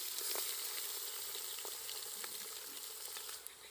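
Mutton pieces frying in hot oil with curry leaves for a village-style mutton curry give a steady, close, crackling sizzle with occasional stirring, and no talk.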